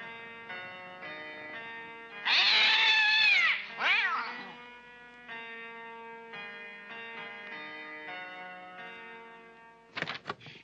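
Cats meow loudly and close by in a drawn-out, wailing caterwaul, followed by a shorter second cry. Steady sustained tones run underneath, and a brief rustle comes near the end.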